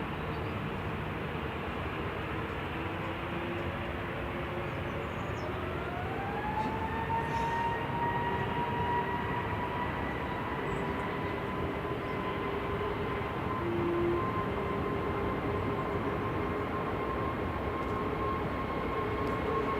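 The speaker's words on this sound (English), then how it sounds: "EasyJet on the roll to Lanzarote" An EasyJet Airbus A320neo bound for Lanzarote powers up for its take-off roll at Manchester Airport: a steady, fairly distant engine roar with a whine that climbs in pitch and then holds.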